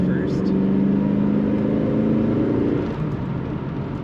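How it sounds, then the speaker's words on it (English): A 1994 Chevrolet Corvette coupe pulls away under acceleration, its exhaust note a loud, steady droning hum heard from inside the cabin, easing off toward the end amid road and wind noise. "Typical good acceleration and exhaust note coming out the back of the Corvette."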